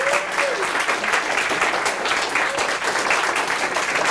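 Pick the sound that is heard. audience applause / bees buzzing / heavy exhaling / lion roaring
audience applause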